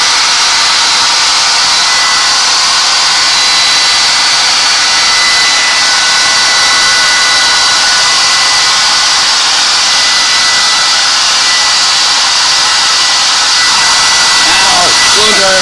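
A hair dryer blows continuously and loudly at close range to heat up pizza crust, a steady rushing whine that only shifts slightly near the end.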